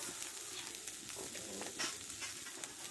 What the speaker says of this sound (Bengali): আদা রসুন পেঁয়াজটা ভালো করে আমি কষে নিলাম